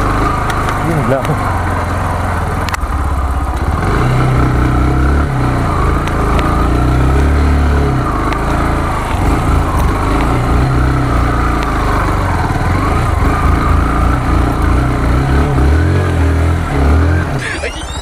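Kawasaki Rouser NS160 motorcycle riding off-road on a mountain trail, its engine droning steadily and loudly throughout with rough rumbling low end and shifting revs, wind buffeting over it.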